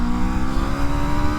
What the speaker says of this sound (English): this motorcycle is powered by a 1099cc liquid-cooled V4 engine, 65 degree.